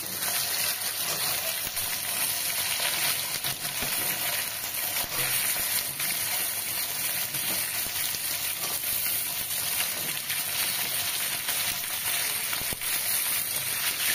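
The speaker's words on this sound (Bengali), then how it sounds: "এখন এই যে পুঁইশাকের ডাঁটাগুলো দিয়ে দেব, সাথে কয়েকটা কাঁচা লঙ্কা চেরা দিয়ে দিচ্ছি।" Malabar spinach stalks and slit green chillies hiss in hot oil over potatoes already fried reddish, a steady, close, loud sizzle that holds without a break.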